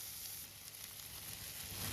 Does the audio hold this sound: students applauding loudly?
no